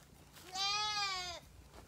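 A single young goat lets out one loud, wavering bleat lasting under a second, close by against a quiet background.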